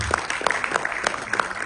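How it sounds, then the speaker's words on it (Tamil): A brief burst of steady applause fills a hall at a music video launch, many hands clapping evenly and fairly close for under two seconds. "லேடிஸ் அண்ட் ஜென்டில்மேன், மீண்டும் உங்களுக்கு ஒரு சிறப்பான கைத்தட்டல் கொடுத்துடலாம்."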